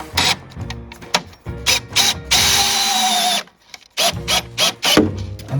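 A power drill driving a screw into a part during a recording studio build, heard in several short bursts of whirring and ratcheting with brief pauses and one longer sustained run in the middle, fairly close and loud.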